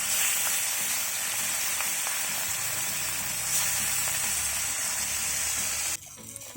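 Pieces of rui (rohu) fish fry in hot oil with a loud, continuous broadband sizzle and crackle that stays up close and steady, then cuts off abruptly near the end.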